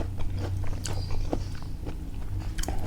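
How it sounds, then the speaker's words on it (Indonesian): Close, steady biting and chewing on cooked eggplant, soft moist crunches repeating over a low background hum, with no talking. "Kita cicip terong."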